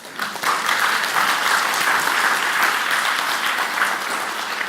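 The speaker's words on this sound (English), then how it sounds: "You need an applause" An audience in a teacher-education session breaks into applause, a steady, dense clapping that starts within half a second and holds at a fairly loud, even level for several seconds before easing slightly at the end.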